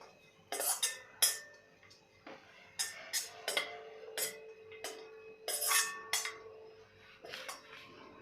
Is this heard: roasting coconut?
yes